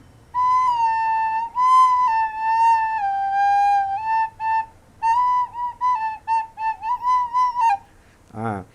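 A recorder played with too little breath gives a wavering, thin tune of sustained and short notes, pitch sagging and unsteady, close and clear with no talking.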